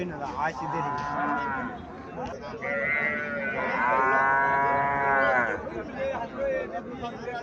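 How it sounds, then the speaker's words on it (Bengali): A red desi dairy cow lows in long, drawn-out moos close by, with people talking around the calls. "এখানে একটা গাভি দেখা যাচ্ছে, লাল, একদম চমকা লাল, স্বাস্থ্য ভালো আছে"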